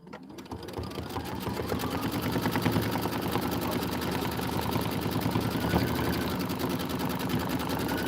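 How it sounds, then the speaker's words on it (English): An embroidery sewing machine runs continuously while stitching a decorative autumn border, producing a fast, even mechanical chatter with a low motor hum. It rises to full speed within the first second and holds a steady rhythm, close and prominent. "We're going to do the decorative stitching."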